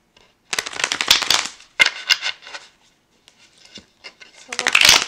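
Tarot cards are shuffled by hand in several quick riffling bursts with brief pauses between them, close and crisp.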